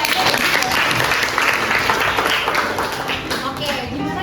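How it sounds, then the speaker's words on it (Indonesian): A school audience in a hall breaks into sustained applause, dense clapping that holds steady and then thins slightly, with voices mixed in. "tepuk tangan dulu dong."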